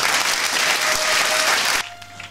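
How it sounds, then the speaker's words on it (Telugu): A church congregation clapping hard, a loud dense burst of applause that cuts off abruptly near the end, leaving a quieter room. "కొట్టు చప్పట్లు గట్టిగా"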